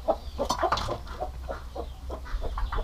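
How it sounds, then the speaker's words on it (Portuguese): Free-range Índio chickens cluck on a farm where hens sit brooding, giving a steady run of close, rhythmic clucks for about three seconds with no talking. "Galinha chocando por cima das patas."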